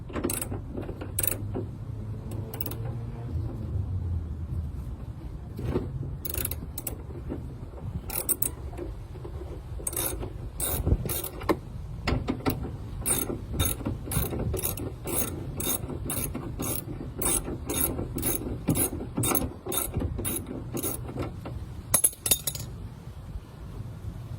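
Ratchet loosening a 14 mm seatbelt bolt inside a 3rd-gen Toyota Tacoma Access Cab, giving rapid close-up bursts of sharp clicking pawl strokes, repeated steadily over low background rumble.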